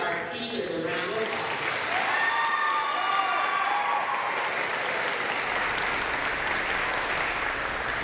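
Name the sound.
audience applause for teachers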